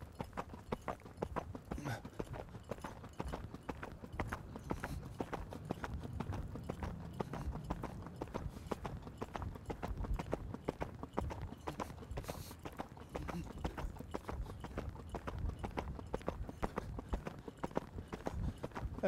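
A horse gallops in a steady, rapid rhythm of hoofbeats throughout, the clip-clop continuous and fairly close with a faint voice underneath at times.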